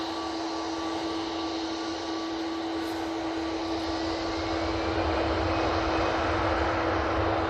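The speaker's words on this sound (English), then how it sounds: "EasyJet now on the roll." An EasyJet airliner accelerates down the runway at Manchester Airport, its engines building to a loud, steady roar that swells slightly toward the end, with no voices over it.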